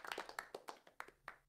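A handful of people clap at an online awards show for the animation category, a sparse, quiet patter of separate claps lasting a moment.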